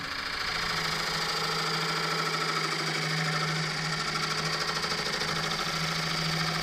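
A wood lathe spins a bowl blank as a gouge cuts into it, giving a steady continuous motor hum with a constant tonal whine and rough scraping texture, close and even throughout with no talk.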